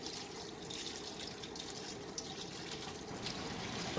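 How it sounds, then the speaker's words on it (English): Sauce with cornstarch poured into a pan for scallion ginger crab, a faint continuous liquid splashing and trickling, soft and steady with no voices. "We are going to go ahead and add in the sauce."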